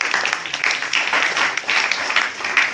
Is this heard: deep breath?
no